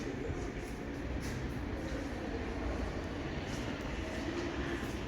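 Old number 7 steam train at Greenfield Village, a steady rumbling rail noise with continuous low-frequency churn and faint higher hiss, fairly loud and unbroken throughout, no voices heard.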